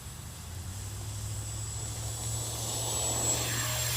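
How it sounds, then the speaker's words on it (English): Freewing 70mm EDF F-16 V3 RC jet on its takeoff run, the electric ducted fan holding a steady whine that swells slightly louder as the model accelerates, with a low hum underneath and no talking. "let's get this plane up in the air"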